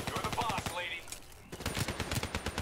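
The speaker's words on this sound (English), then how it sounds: "We need to focus fire on these robots. They keep shooting at me." Rapid automatic gunfire in Call of Duty Black Ops 3 during a fight against robots, loud bursts of close shots with a short lull in the middle before firing resumes.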